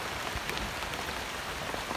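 Heavy rain pours steadily outdoors around a banana plant, making a dense, even hiss with scattered drop impacts on surfaces. The sound stays constant throughout and nobody speaks.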